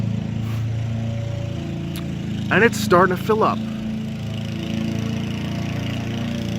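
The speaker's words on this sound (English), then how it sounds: "Fucking lawnmowers" Steady low drone of lawn mowers running outside, continuous and fairly distant, with someone talking briefly over it.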